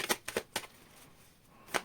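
Tarot cards being shuffled, several quick crisp riffling bursts close up, a pause, then one more brief riffle.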